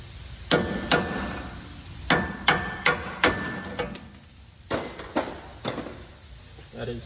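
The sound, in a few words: hammer striking a car's lower ball joint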